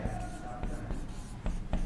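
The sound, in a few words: teacher writing lecture notes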